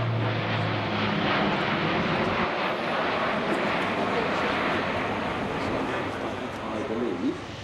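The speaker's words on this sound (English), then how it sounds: "A400M just touching down" An Airbus A400M military transport touches down at the Farnborough airshow, its engine roar loud and steady throughout, a broad rumbling wash that swells and fades slightly near the end, with crowd murmur beneath.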